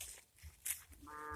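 A cow in an open field where goats graze toward sunset gives a single faint, drawn-out moo near the end, after a few soft rustles and distant background noise.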